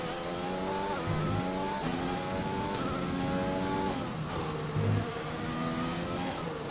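A Formula 1 car's engine in F1 2020 at the Dutch Grand Prix wails loud and close, rising through the revs, dipping briefly at each upshift and climbing again in a continuous high-pitched scream.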